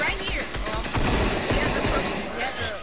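Rapid bursts of video game gunfire in a Fortnite battle royale squad match, dense and continuous at close range, layered with booming impacts while players talk over the shooting.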